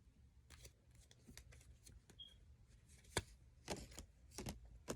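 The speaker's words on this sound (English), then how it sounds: "These cards wanted to fall out while I was shuffling." A deck of cards being shuffled by hand gives a run of soft riffling flicks and sharper snaps, close and fairly quiet, with no talking.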